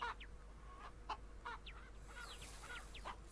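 A flock of chickens in Ranch Simulator, several birds clucking in short rhythmic calls with quick rising chirps, faint and close-by against a low background hum.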